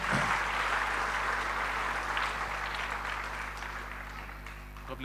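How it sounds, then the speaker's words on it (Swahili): An audience claps steadily through the whole stretch at a church financial wellness talk, a dense roomful of hands that stays fairly even before tapering slightly near the end, heard from within the crowd. "Tumpigie makofi akija."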